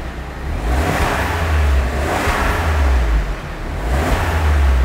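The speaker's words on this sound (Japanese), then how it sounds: "じゃあ次エンジン音聞いてみましょう。 マフラー音というか。" A Smart Fortwo Cabrio Brabus has its engine and exhaust revved while stationary: loud, close, repeated rev swells that rise and fall across the clip with a steady idle rumble beneath.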